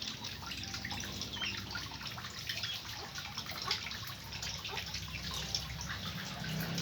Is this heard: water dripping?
yes